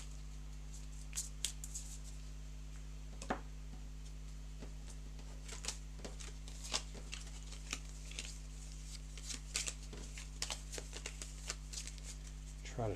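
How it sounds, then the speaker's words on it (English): Playing cards are shuffled by hand during a tabletop card game, with a steady run of soft riffling and snapping card flicks over a constant low hum, close to the microphone. "Let's try to shuffle these up a bit better than they were."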